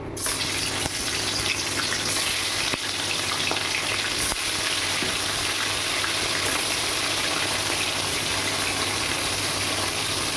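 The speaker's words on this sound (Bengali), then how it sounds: "এবার আমি মাছটা ভেজে নেব।" Bata fish rubbed with salt and turmeric fries in a pan, giving a steady, dense, close sizzle that crackles evenly for about ten seconds with no talking.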